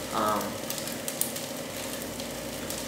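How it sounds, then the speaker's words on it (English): Cabbage, rice and walnuts sizzle in a pan, with a steady, soft frying hiss throughout and a brief brighter spitting burst near the start, no voices. "Cook that cabbage down just slightly so it's not so crispy"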